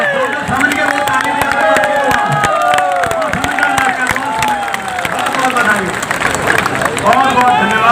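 At an outdoor political rally in Rewari for Punjab Chief Minister Bhagwant Mann, a large crowd claps and cheers loudly and continuously, a dense roar of applause mixed with shouting and murmuring voices.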